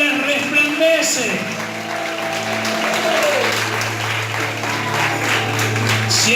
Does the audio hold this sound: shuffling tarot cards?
no